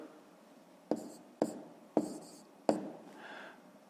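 Hand-writing of fifth-grade math subtraction with decimals, heard as four short, crisp strokes or taps at close range in a quiet room, with a faint scratch after the last.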